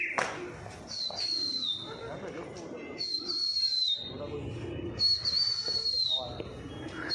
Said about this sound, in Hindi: ये पहाड़ी तोता बोल रहा है अंदर